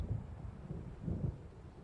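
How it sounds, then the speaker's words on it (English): Low rumbling thunder of an approaching storm over open water in Alan Wake Remastered, two soft swelling rolls under a steady windy hush, distant and muted. "It seems there's a storm coming."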